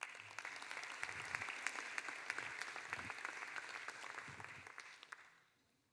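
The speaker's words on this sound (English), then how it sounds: "Please, a round of applause for him." An audience at a journalism panel applauds a speaker who is being introduced, with dense, steady clapping from a crowd that holds level and then fades out at the end.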